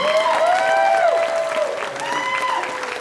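Standing town hall audience applauding and cheering, a broad wash of clapping with whoops and rising vocal shouts from the crowd, loud and sustained across the room.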